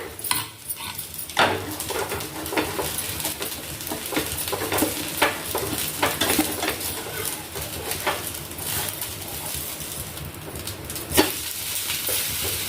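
Bottle gourd dosa cooks on a pan over a medium flame, giving a steady, close sizzle with scattered crackles and light clicks throughout.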